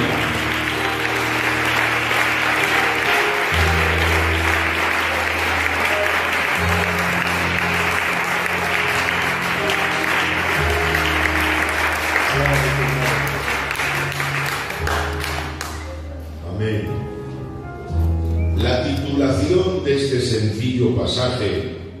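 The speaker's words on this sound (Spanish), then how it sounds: "ver cómo suena el aplauso que das el corazón para Dios" A church congregation claps and applauds to God during a sermon, a dense, loud wash of hands under steady low organ or keyboard chords, thinning out toward the end as the music continues.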